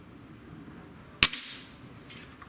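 A Sig Sauer ASP20 break-barrel air rifle fires a single sharp, loud crack at close range on a roughly 20-yard target, followed by a short tail and faint trailing noise.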